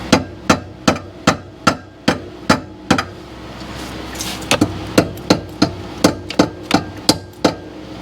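A hammer taps the alternator mounting tabs on a 2008 GMC Sierra 2500HD, about twenty sharp metallic strikes in steady rhythm, close and loud, with a brief pause midway filled by faint rustling.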